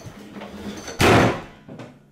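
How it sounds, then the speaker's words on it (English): A door slams shut with one loud, sharp bang and a short decaying rumble, followed moments later by a smaller knock, set against a quiet indoor room. "That's how you slam a door."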